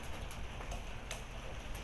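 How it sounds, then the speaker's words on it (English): Heavy rain from a severe thunderstorm pours down outdoors as a steady, even hiss, with a few sharper drop hits standing out, heard from a short distance. "Hear how loud that rain is?"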